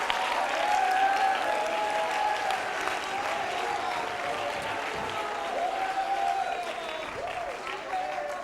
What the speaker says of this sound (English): Clap your hands and leap for joy and shout